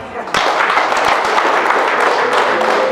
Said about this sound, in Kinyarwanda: umuryango yagira ngo bongere baguhe amashyi